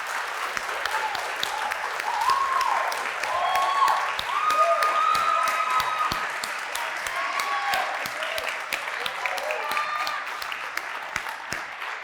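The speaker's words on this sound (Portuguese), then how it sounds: "Aplaude o Senhor aí agora com toda a sua força." A church congregation claps during a sermon, with sustained moderate applause and some sharp individual claps standing out, steady for the whole stretch with faint voices and music underneath.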